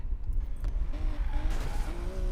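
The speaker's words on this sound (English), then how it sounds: "you see I'm crashing cars and stuff?" Cars skidding and squealing their tires in the racing video game Need for Speed Payback, a steady engine rumble under sliding tire screeches that rise and fall, with no talk.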